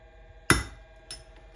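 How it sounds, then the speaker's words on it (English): A single sharp metallic tap as a hammer strikes a prick punch to mark a PM 728V T milling machine. It rings briefly close by, followed by a softer second tap, with no talk. "put a prick punch mark there."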